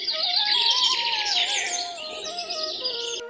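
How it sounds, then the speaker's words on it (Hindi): Birds chirp and warble in a forest, with several overlapping bright, fluttering calls sounding close and loud, continuing steadily before stopping abruptly. "पक्षियों की चहचहाहट फिर से जंगल में सुनाई देने लगी थी।"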